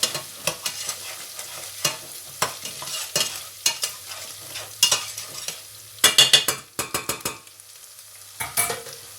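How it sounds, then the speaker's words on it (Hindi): Onions frying in a pan until browned for karela chana dal, with repeated sharp spatula scrapes and knocks against the pan over a low sizzle and a quick cluster of strokes near the end. "प्याज को सुर्ख होने तक भूनेंगे।"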